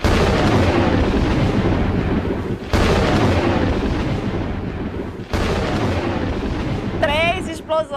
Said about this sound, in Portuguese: Três explosões. Porque era uma explosão para cada um deles.